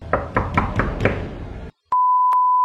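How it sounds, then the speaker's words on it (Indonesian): Knuckles rap on a car's window glass in a forest: five sharp, evenly spaced knocks, then a brief silence and a steady, loud electronic beep tone with a couple of clicks. "Sesosok perempuan misterius yang mengetuk kaca mobil Pak Suryadi di sebelah kiri."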